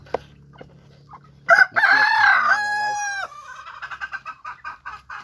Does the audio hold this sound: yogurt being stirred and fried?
no